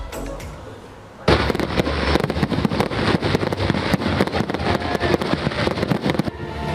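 A pyromusical competition fireworks display over Seaside Boulevard in Pasay bursts in after a quiet second, with dense crackling and popping explosions continuing steadily and loudly until the end.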